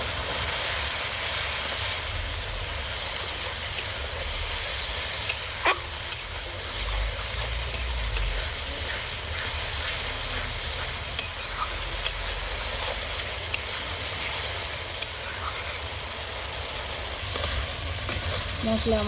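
Spices and green chillies sautéing in a pan for a rohu fish curry with capsicum, a steady hissing sizzle held at an even level throughout, with occasional faint clinks of stirring.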